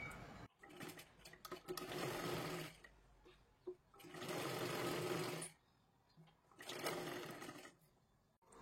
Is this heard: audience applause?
no